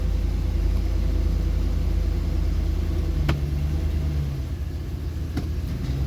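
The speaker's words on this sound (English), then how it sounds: "Alright, we'll run it through the gears." A 2014 Chevrolet Silverado pickup truck runs steadily, its engine giving a continuous low rumble with no pronounced revving, close by and without talk.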